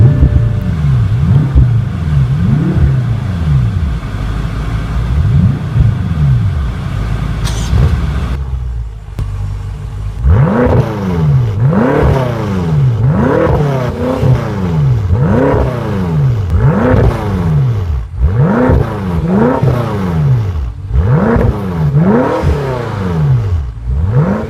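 A 2014 BMW M5 F10 with its twin-turbo engine idles up close, cuts out briefly, then fires back to life and gets blipped again and again in sharp, evenly spaced revs that rise and fall.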